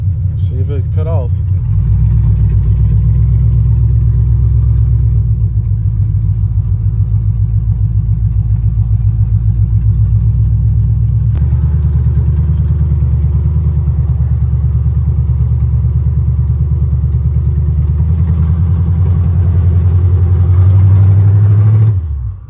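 A Chevrolet Monte Carlo SS with a fuel fault runs warmed up: a loud, close, steady V8 rumble that idles, then climbs into a brief rev near the end before cutting off, with a voice talking over it.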